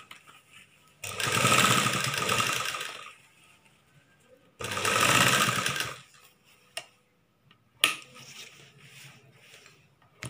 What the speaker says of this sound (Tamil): இப்படி நம்ம தையல் போட்டுட்டே வருவோம்.